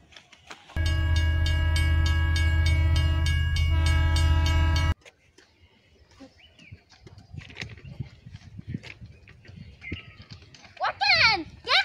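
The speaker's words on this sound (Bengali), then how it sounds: "ওঠেন, ট্রেন আসছে," A train horn blares in one loud, sustained blast of about four seconds, then cuts off to quieter ambience with people talking and moving nearby.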